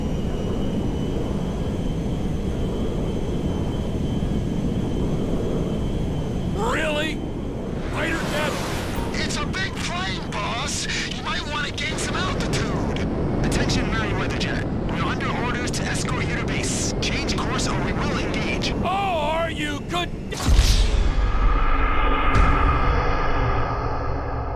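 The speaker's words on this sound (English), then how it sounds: "Ronnie, the cargo jet is now part of the TP Enterprise fleet" Large cargo jet in GTA V flying with a steady roaring engine drone and wind rush, broken by game sounds, ending in a louder burst and a lower, rougher rumble.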